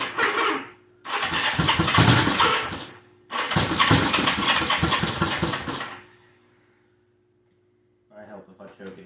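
A vintage Honda CB motorcycle engine cranks and fires in two long loud bursts with a short gap between, then dies away into silence before a brief faint sound returns at the end.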